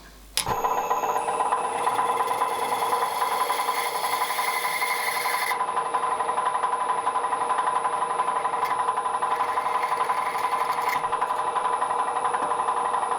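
A machine starts and runs with a steady high whine and fine rapid chatter, continuous and close, as a 2.5 mm drill cuts into a metal part for a 5-inch gauge model locomotive.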